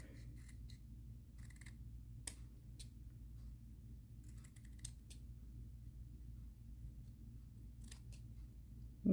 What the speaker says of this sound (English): You can cut it off and round it out.